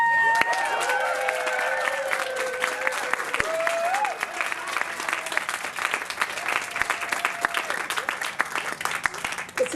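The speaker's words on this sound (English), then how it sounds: "Applause for you." Audience applause after a poetry reading afternoon, a full round of clapping with some cheering, while a voice or two speaks faintly over it early on.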